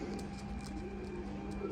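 High flyer pigeons coo softly at a distance, low rolling murmurs repeating under a faint steady background hum.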